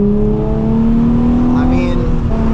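A Nissan 350Z engine revving hard under acceleration, a loud, steady droning tone that climbs slightly in pitch, heard from inside the car.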